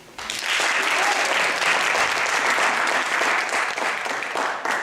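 An audience at a teen arts showcase breaks into loud, steady applause that starts abruptly and carries on for several seconds, close and full, fading only slightly at the end.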